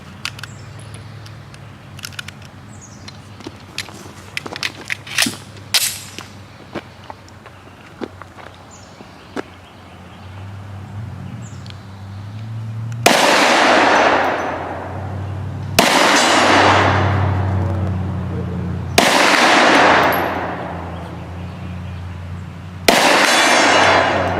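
Handling clicks and shuffling lead into four loud, sharp gunshots from a .357 magnum 1911 pistol, spaced about three seconds apart at close range, each ringing briefly before the next.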